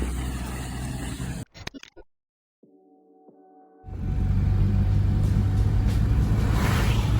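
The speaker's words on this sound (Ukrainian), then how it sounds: "Зараз на третій передачі десь 50 по рівній дорозі." A ZAZ Tavria car cruising in third gear at about 50 on a level road, a steady engine drone and road rumble that cuts out into near silence with faint tones, then returns loud and constant.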